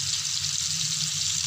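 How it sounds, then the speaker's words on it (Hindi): Onions frying in a pan with cumin, turmeric and red chilli, a steady close hiss and sizzle with no talking. "फ्राई कर लेंगे हम प्याज को"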